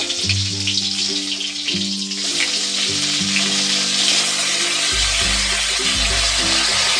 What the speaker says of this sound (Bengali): মাছ ভাজা তেলেই আমি বেগুনগুলো এবার ভেজে নেব